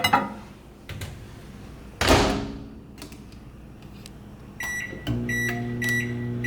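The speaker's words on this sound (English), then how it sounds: "and then I microwave it for 2 minutes" A microwave oven heating a bowl of cream of rice and water: door clunks and sharp beeps of the keypad, then a steady electric hum starts and runs to the end.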